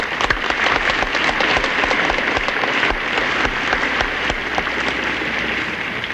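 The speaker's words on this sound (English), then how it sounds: "I wish we could all just applaud them." Loud, dense applause from a large dinner audience in a banquet hall, continuous and even throughout with occasional sharper individual claps.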